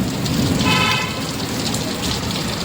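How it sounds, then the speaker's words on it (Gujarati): A heavy downpour beats steadily on surfaces nearby with a dense, even roar. A faint vehicle sound passes in the background. "ધબધબાટી વરસાદ છે"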